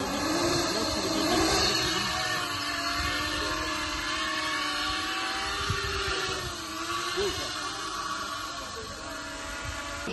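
A steady, high-pitched mechanical buzz of a small kamikaze drone's rotors hums continuously, with a slight wavering pitch and a rushing wind-like background.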